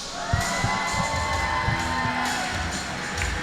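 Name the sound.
crowd cheering and applauding at timbersports event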